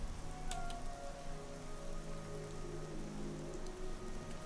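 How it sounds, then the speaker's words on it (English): Rain in the video game Skyrim: a steady, soft patter of raindrops on surfaces running continuously at low volume, with no talking. "I just have so much rain here."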